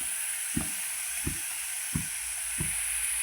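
Puree sizzles in a pan with beetroot curry under a steady frying hiss, while four evenly spaced soft stirring thumps from a spoon recur about every two-thirds of a second, close and quiet.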